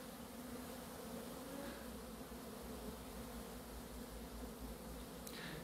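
Steady buzzing of many honeybees around a top-bar hive in February sunshine, a dense continuous hum at moderate volume with no talking.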